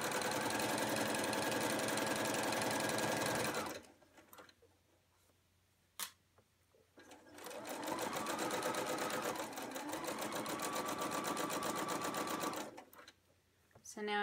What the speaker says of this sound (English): And now I'm going to backstitch just to lock those stitches in and keep it secure so nothing comes out.